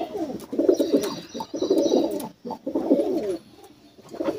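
High flyer pigeons cooing in bursts of soft, rolling calls with brief pauses between them, close and moderately loud, with no talk over them.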